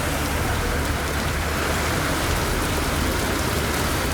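Moderate rain with a light wind falls in northern Tamil Nadu towns, a dense, steady hiss that continues without a break.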